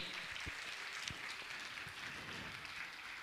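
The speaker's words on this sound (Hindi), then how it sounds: "जोरदार तालियों का सम्मान करें।" Faint, steady applause from a large audience of pilgrims at a Jain religious gathering, a distant continuous wash of many clapping hands with a few low thumps, no talking over it.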